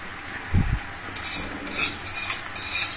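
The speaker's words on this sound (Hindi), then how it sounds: "बाकी ये पूरा करछी चम्मच से एक में कर लेना इसको अच्छे से मिक्स करूंगी" A ladle scrapes and stirs pasta through a buttery sauce in a pan, with a dull low knock early on followed by soft wet mixing and light scraping, close and alone without talk.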